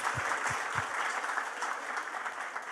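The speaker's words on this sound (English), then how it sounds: "Can you please give yourselves a big round of applause?" A live audience at a panel discussion on climate, biodiversity and pollution claps together in a dense, sustained round of applause that holds steady throughout; no one speaks over it.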